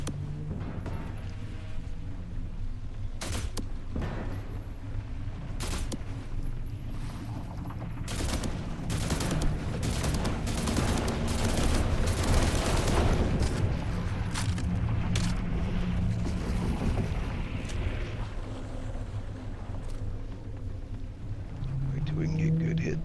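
Gunfire from slam rounds in the video game The Last Caretaker, a string of sharp cracking shots spread across the stretch, some in quick bursts, heard with a low engine-like hum beneath and someone talking now and then.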